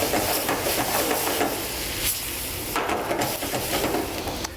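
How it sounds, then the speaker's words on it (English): Wine poured into a hot pan of shrimp sends up a loud, steady hiss of steam and sizzle over high flame, with light scraping and clatter of stirring throughout. "it's also going to create steam that's going to help us help that shrimp finish cooking"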